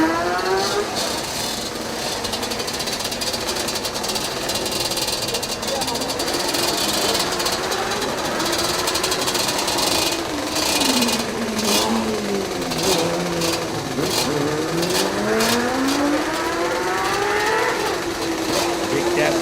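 A Honda CBR motorcycle races up the Eliyakanda hill climb, its engine screaming loudly and rising and falling in pitch as it shifts through gears, running continuously from start to finish.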